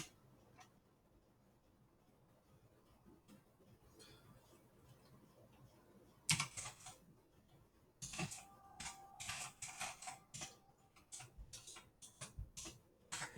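Typing on a computer keyboard, faint and sparse at first, then bursts of quick, close clicking keystrokes with short pauses between them.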